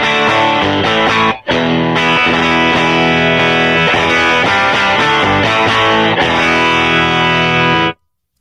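Electric guitar with a single overdrive plays a crunchy riff of chords and notes, loud and close, with a brief gap early on, then stopping.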